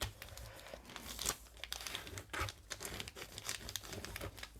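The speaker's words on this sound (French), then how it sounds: "on plie, on replie tout simplement ceci, on marque bien les plis" Paper bags being folded and creased by hand for a Christmas mini album: close, quiet crinkles and crisp creasing rustles in irregular bursts, with no speech.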